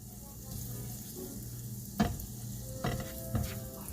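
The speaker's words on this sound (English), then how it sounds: "we just want to put these garlic in here like that. And you want to keep stirring" Garlic sizzles in a pan and is stirred, a soft steady hiss with a few sharp clicks and scrapes of the spoon against the pan near the end.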